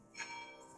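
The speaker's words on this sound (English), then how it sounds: "Yes, that was the bell." A bell striking the hour, heard as one resonant chime with a lingering ringing tail, fairly faint and distant against a quiet room.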